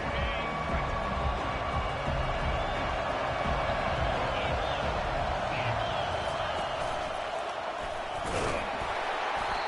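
A large college football stadium crowd roars continuously in a broad, sustained wash of noise, with a commentator's voice running over it.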